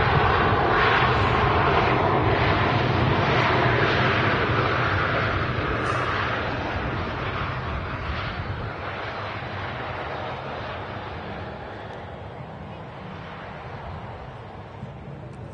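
A Ryanair Boeing 737-800 arriving from Faro at Manchester Airport gives a loud, broad engine roar and rushing jet noise that slowly fades as it passes, with no talking.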